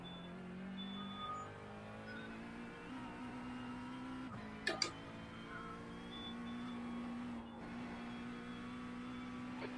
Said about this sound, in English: My robotic vacuum cleaner has just come in, and you can obviously probably hear it.